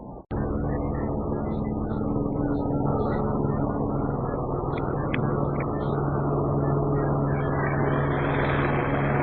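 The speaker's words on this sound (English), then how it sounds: "our neighborhood's so noisy with all the helicopters around" Steady, loud mechanical drone with a low rumbling throb runs throughout, like a helicopter passing nearby overhead, with no voices.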